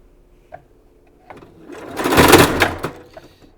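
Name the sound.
sewing machine sewing a fabric strip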